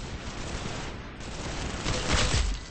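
Video game gunfire rattles in a dense, continuous burst of shots that swells louder toward the end, with no talk over it.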